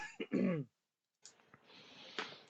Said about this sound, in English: I'm gonna have to clear my throat.